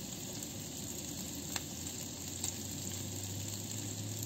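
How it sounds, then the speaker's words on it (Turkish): Slices of sucuk sausage fry in a pan inside a caravan, producing a steady, moderately soft sizzle with a faint low hum beneath and a couple of small clicks. "Sucuklar kavrulsun şöyle arkadaşlar. Güzel kızarsın sucuklarımız."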